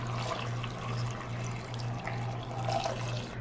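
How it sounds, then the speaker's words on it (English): Water is poured from close by into an Instant Pot holding chickpeas. It makes a steady, faint splashing stream with a low hum underneath, and no one speaks. "the last ingredient that we need right now is 3 cups of water"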